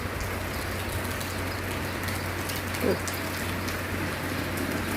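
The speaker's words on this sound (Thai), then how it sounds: "ฝนตกก็ลำบากเนาะโอ้โหเนาะ" Steady rain hiss fills the whole stretch, a dense continuous patter with a low hum underneath and no clear voices.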